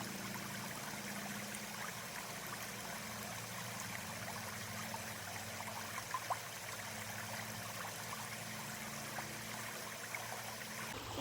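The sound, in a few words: Katadyn push-through water filter filling bottle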